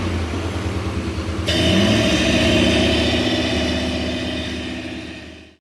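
A Toyota 1UZ V8 engine idling in a Land Cruiser with its idle set quite high, a loud, steady, close rumble with a pulsing beat that steps up slightly in pitch partway through, then fades away at the end.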